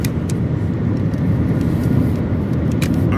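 A car cruising on a highway near Amarillo, a constant low engine and road rumble with wind noise, steady and close throughout.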